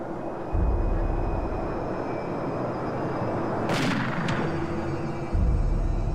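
A low rumbling drone interrupted by two sharp, brief gunshot cracks, the second fainter than the first.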